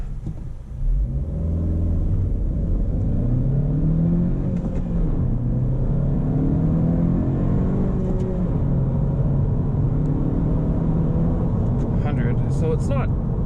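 A manual 2021 Honda Civic Hatchback Sport accelerating hard from a stop, engine note rising and falling through gear changes, loud and close in the cabin with steady road rumble.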